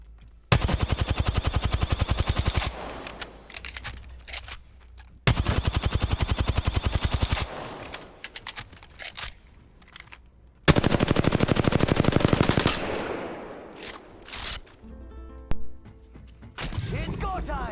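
Sustained full-auto gunfire with recoil in Apex Legends, three long, loud bursts of rapid shots separated by short pauses, with a voice talking over parts of it.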